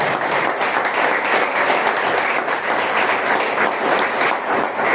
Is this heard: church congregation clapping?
yes